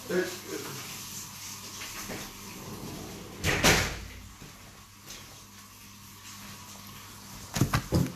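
A door is pushed shut with a thudding clunk and a rattle of the latch, then a second softer knock follows a few seconds later, with people talking quietly nearby indoors.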